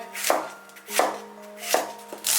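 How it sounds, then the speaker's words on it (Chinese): A knife slicing an onion into thin strips on a chopping board, four distinct chops at a steady, unhurried pace, close and clear with a faint tonal hum underneath. "洋葱切成细丝"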